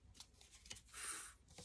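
Oracle cards from the Divine Masculine Honesty and Realizations deck by Sandra Cole are shuffled, a soft close riffling with light flicks and a brief burst as cards pop out of the deck.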